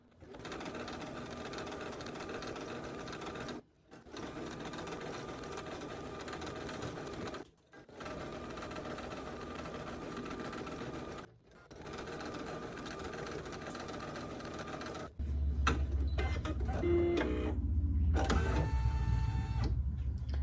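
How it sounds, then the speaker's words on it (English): A computerized embroidery machine stitches horizontal lines on a hooped needle-minder appliqué, a fast steady mechanical whir broken by three brief pauses before a louder, different clattering stretch at the end. "step 3 is going to stitch these horizontal lines"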